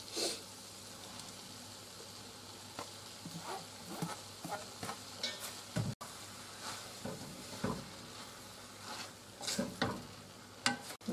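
Rice tipped into a pan of peas and leek and stir-fried, with irregular scraping and tossing strokes over a soft sizzle, close and moderately loud, no talking.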